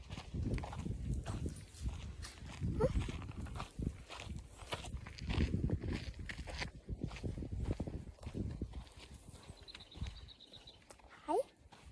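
Horses shift and walk about on a farm while being given fresh grass, with soft irregular hoof clops and footsteps close by, plus scattered rustling and a brief high bird-like call near the end.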